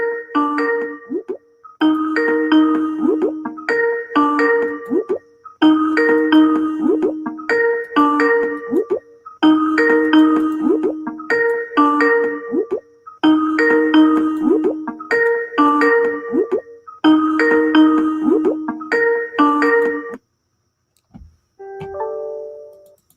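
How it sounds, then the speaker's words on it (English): A phone rings in a steady repeating pattern of bright electronic trills, about nine rings in a row, loud and close, then stops with a brief different tone at the end. "Ringing. Okay, pick it up."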